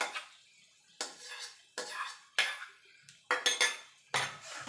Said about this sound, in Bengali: দিয়ে ভালো করে মশলার সঙ্গে কষিয়ে নেবো